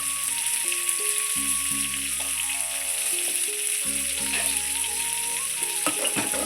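Fish pieces frying in hot oil for a moong dal with fish head, giving a steady sizzle throughout, close and fairly loud, with some tonal kitchen hum and occasional clinks.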